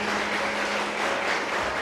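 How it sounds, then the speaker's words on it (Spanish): A church congregation claps together in worship, a steady, dense wash of applause that holds evenly at moderate loudness throughout with no voices over it. "Si le va a aplaudir a Dios, hágalo fuerte"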